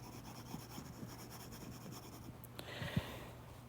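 A board eraser rubbing steadily across a classroom whiteboard or chalkboard, giving a continuous faint scrubbing rasp in a quiet room, with a couple of light knocks near the end.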